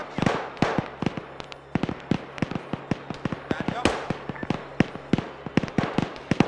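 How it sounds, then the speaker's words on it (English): Rapid bursts of gunfire crackle in quick irregular volleys, sharp pops in a steady stream, with a voice talking faintly underneath. "there's a lot of gunfire going on right now"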